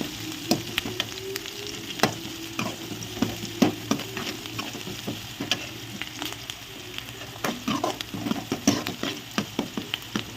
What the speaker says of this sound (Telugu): ఆయిల్ అయితే పెట్టేసుకున్నా ఇప్పుడు ఇందులో అయితే ఆవాలు జీలకర్ర పచ్చిమిర్చి ఉల్లిపాయ అయితే వేసేసుకుంటున్నా